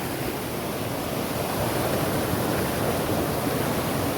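A swollen monsoon river in a Kokan village, Maharashtra, rushes past in a steady, loud, broadband roar with no pauses or voices.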